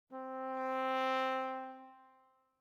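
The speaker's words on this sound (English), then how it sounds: "So we can go with a swell, for example, and go with 1 bar swell" A single sustained brass note from the Native Instruments VALVES library swells in over one bar, growing fuller and brighter, peaking near the middle and fading out smoothly, clean and isolated.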